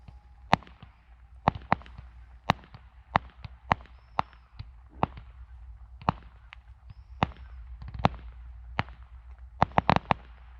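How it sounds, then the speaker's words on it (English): Sharp firework bangs burst one after another at irregular intervals, with a quick cluster near the end, over a steady low background hum, heard from an outdoor campsite. "got a firework display while I eat my food"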